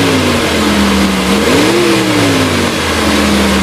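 A fuel-injected 2015 Mitsubishi T120SS pickup engine runs loud and close, rising in a smooth rev midway and then settling back to a steady hum, with no voices.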